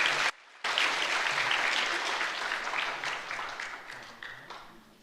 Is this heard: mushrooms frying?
no